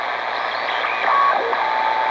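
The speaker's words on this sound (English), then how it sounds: "Now these tones you're hearing are more interference at this day" Interference tones come through a shortwave radio with a collapsed telescoping antenna. Thin steady whistles and short gliding pitches sit over constant static hiss, loud and unbroken.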